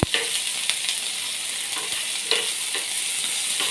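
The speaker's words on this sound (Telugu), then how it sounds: "ఈ ఉల్లిగడ్డలు వేసుకున్నాక స్పూన్తో కలుపుకోవాలి కొంచెం గ్యాస్ సిమ్లో పెట్టుకొని" Chopped onions frying in a pan over a low gas flame for a spicy chicken curry, a steady close sizzle broken by a few sharp spoon scrapes as they are stirred.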